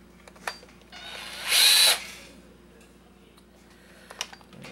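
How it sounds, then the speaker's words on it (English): Power driver spinning briefly to back out a security screw from a hair dryer casing, one short whirring burst amid quiet clicks and handling knocks. "there's two security screws here. Let's see if we can unscrew them easily enough."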